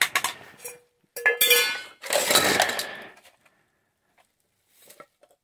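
Metal pans, a small pot and a kettle rummaged through in a box, giving bursts of clanks, clinks and scraping clatter, loudest early on and then trailing into sparse faint knocks.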